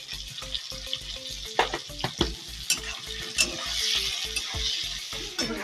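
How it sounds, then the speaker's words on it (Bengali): Chopped tomato with salt is stirred and fried in a pan, with repeated spatula scrapes and clinks over a continuous close sizzle that builds toward the end. "এবার আমি টমেটো কুচিটা দিয়ে দেবো। একটু সামান্য নুন দিয়ে দেবো,"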